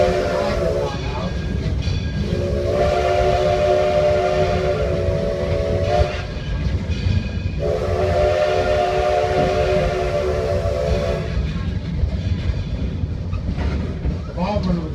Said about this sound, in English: It's a steam locomotive.